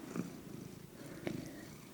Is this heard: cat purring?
yes